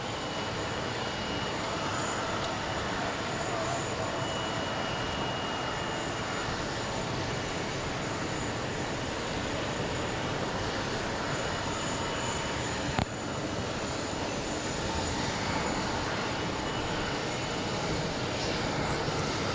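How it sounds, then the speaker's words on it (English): An Air India airliner takes off from JFK bound for Mumbai, and its jet engines give a steady, broad, far-off roar that holds at an even level throughout, with no talking over it. "there goes the Air India that we saw pushed back"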